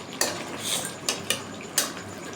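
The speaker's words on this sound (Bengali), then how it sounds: "এবারে ভালো করে আর একটু কষিয়ে নেব" A metal spoon scrapes and knocks against a pot while duck meat is stirred and fried, three or four distinct clanks over a low sizzle, close by with no voices.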